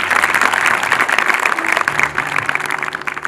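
Loud, sustained clapping from a seated audience at a motivational talk about exam preparation, the crowd applauding itself in a continuous dense wash of hand claps from start to end.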